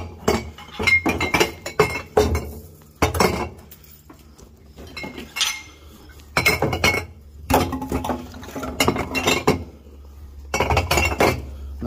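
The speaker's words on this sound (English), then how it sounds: "this white barrel is going to be for our glass bottles" Glass bottles clink and clatter into a white barrel, sorted for recycling. The clusters of sharp, ringing knocks come in quick bursts, with short quiet pauses between each batch.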